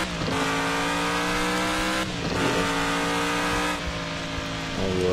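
A modified offroad truck with a new aftermarket exhaust in the Offroad Outlaws driving game revs loudly and steadily, holding a droning engine tone that dips briefly twice before climbing again, with no talking.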